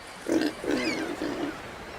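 Three grunting pig calls in a row, each a short guttural burst with a small pause between them, heard up close and clear in a fantasy game cutscene from Age of Mythology.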